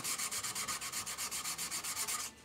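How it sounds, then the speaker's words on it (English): A Benjamin Trail NP2 air rifle stock is sanded with 120-grit sandpaper in quick, even back-and-forth strokes, about sixteen rhythmic rasping passes up close before stopping. "Then I have a 120 sandpaper across the top."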